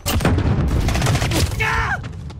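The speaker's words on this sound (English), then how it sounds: "I'm taking fire." Heavy gunfire rattles in the video game Call of Duty: Modern Warfare, with loud rapid bursts and booming shots close by and a voice crying out briefly.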